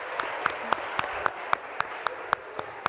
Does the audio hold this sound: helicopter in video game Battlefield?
no